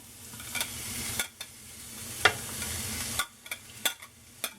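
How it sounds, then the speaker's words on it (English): Onions and peppers sizzling in hot olive oil, a steady close frying hiss with scattered crackles and brief stirring scrapes, no one speaking. "I'm going to go ahead and put my onions and peppers inside of the oil"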